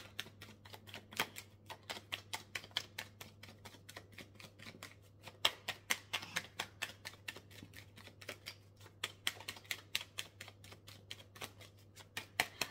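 Pre-Raphaelite tarot cards being shuffled by hand, a close run of quick papery flicks and soft snaps repeating irregularly over a low steady hum, with no voices.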